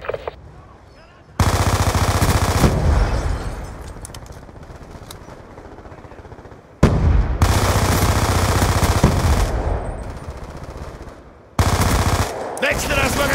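Sustained automatic gunfire from Call of Duty Black Ops 2 on the Hijacked map, loud continuous bursts broken by brief pauses, three long volleys with dense rattling shots throughout.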